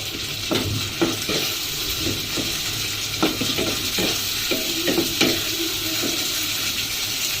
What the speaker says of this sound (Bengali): কিছুটা একটু কষিয়ে নেব মশলাটা।